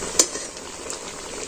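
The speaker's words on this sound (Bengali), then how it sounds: "এটা আমি উল্টে পাল্টে লাল করে ভেজে নেব" Egg, flour and rice-powder snack deep frying in hot oil, a steady close sizzle and crackle with one brief sharp spatter near the start, no voices.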